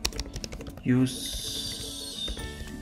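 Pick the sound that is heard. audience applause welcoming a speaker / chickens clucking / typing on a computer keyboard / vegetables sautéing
typing on a computer keyboard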